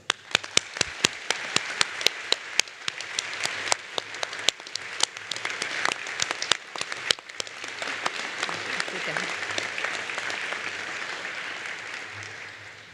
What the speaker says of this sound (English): Please rise and join me in thanking them in the audience, on this stage, and in our memories with a round of applause.